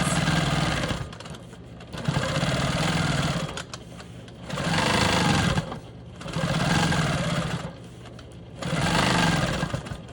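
A Quilt Maker Pro 20 quilting machine stitches a small triangle quilt piece, running in four steady bursts of whirring motor hum separated by short pauses, close and fairly loud with no talking.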